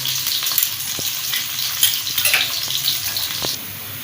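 Two chopped onions sizzle in a pan, frying to a deep dark brown as the base for beef keema pulao; a steady, close hiss carries throughout, with occasional stirring clicks.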